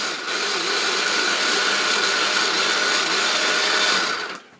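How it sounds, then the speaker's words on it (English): Kitchen blender spinning a dill sauce aioli in one steady, loud whirring run of about four seconds that stops abruptly, with no talking over it. "now we're going to pulse that up, and we're going to just spin it all up here."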